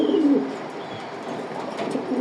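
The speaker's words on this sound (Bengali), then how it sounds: "এই আরেক পেয়ার কবুতর দেখাইলাম" Racing pigeons cooing in a loft, a low murmuring coo early on over a steady hiss of room noise, faint flutters and chirps scattered through.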